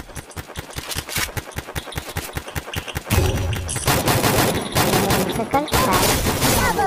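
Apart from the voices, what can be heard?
gunfire in a video game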